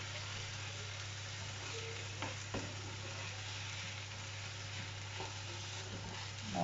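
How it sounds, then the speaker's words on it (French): Hot water goes into a pan of rice and leek to cook. A faint, steady hiss runs throughout over a low electrical hum, with a couple of soft knocks and no talk. "je vais pouvoir rajouter l'eau que j'ai là-dedans pour faire cuire mon riz"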